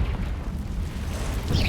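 Confringo spell blast in Hogwarts Legacy, a deep booming explosion with rumbling low-end energy lasting over a second, fairly close and loud with no talking.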